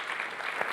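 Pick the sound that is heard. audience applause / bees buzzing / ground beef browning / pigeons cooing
audience applause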